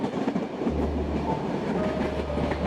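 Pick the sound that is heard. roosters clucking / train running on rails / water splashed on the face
train running on rails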